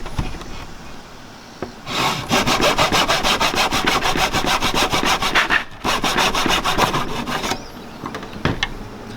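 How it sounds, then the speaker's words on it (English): A hand saw cuts through wood held in a miter box while making a picture frame, giving a loud, steady back-and-forth rasp of rapid strokes that runs for several seconds with one brief pause. "Lay it up in the miter box and cut it just enough to leave that mark still there."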